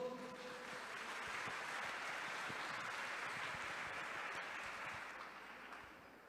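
A church congregation at a morning service applauds, a soft, distant, evenly sustained wash of clapping that fades slightly at the end.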